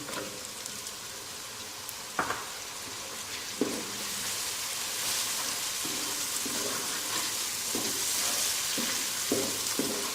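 Tomatoes hit a sizzling pan of daal base, a broad hiss that swells louder after a couple of soft thumps, with intermittent clinks of a utensil against the pan.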